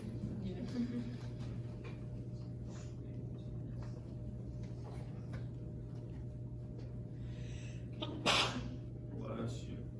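A single sneeze bursts out partway through in a general chemistry lecture room, brief and moderately loud over a steady low hum and faint background noise.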